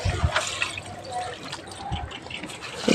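Water splashes and trickles onto garden plants in the morning, an uneven close pouring with soft thumps and drips, and faint sounds around it.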